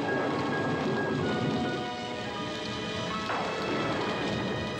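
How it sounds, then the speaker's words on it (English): Steady rain falls in a forest at night, a dense, even hiss with a low rumble underneath, continuous and fairly loud throughout. "It's raining."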